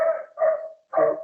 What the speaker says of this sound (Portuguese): o meu cachorro está latindo, porque acho que é alguém fazendo alguma entrega aqui em casa